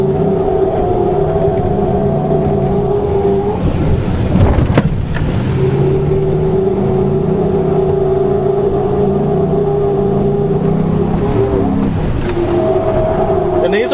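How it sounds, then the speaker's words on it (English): A Ford SVT F150 truck engine roars steadily and close, its pitch climbing and holding as it accelerates hard, with a brief rough burst partway through. "We're going to push this truck to the limit."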